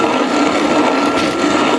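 A Wonder Junior hand grain mill grinds grain toward a coarse cereal texture, giving a steady, loud gritty crunching and rasping that runs continuously without pause and with no voices.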